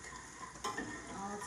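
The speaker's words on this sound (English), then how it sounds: "So we're just gonna keep this stirring." Faint stirring of orange bourbon chicken in a pot over a soft, steady sizzle, with one brief scrape of the spoon partway through.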